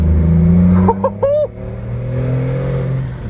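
BMW engine fitted in a Land Rover Defender, idling steadily with a low throbbing hum and one brief blip of revs, close by, with a short voice sound partway through.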